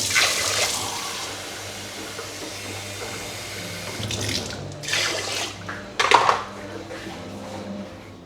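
Water is poured into a pot of jasmine rice on a home stove, a steady splashing trickle that swells in a few louder gushes toward the end.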